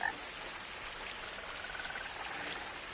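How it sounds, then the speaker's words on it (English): A frog croaks in the video game What Remains of Edith Finch against a soft wash of rain-like ambience. The croaks are faint and scattered, with no speech. "I hear Frog Friend."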